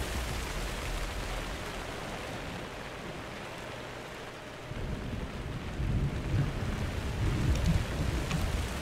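Steady rain hisses and rumbles through a Minecraft Story Mode storm scene, with low thunder rolling in and swelling louder in the second half, no voices over it.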